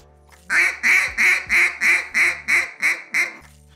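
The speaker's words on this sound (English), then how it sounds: "you let the pressure die off, you're not getting a hard shut off at the end, and you get a little bit of a softer whiny sound at the bottom" A duck call blown in a series of nine evenly spaced nasal quacks, each one loud and close, fading gently with a soft whiny tail rather than a sharp cutoff.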